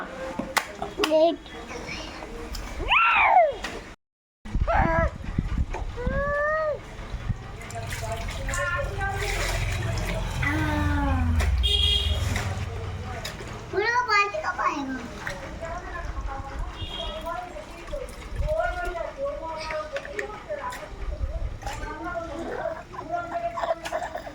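A child splashes and stirs water at home, steady sloshing under a child's chatter and an adult voice talking throughout.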